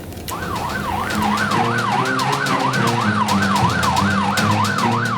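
An ambulance siren wails in a steady, fast up-and-down cycle, loud and close, with road and engine rumble underneath throughout.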